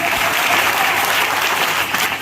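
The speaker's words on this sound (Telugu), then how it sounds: "గట్టిగా చప్పట్లు కొట్టాలి" A church congregation at a Sunday service claps hard and loudly. The crowded, unbroken applause is close and sustained for about two seconds and eases slightly at the very end.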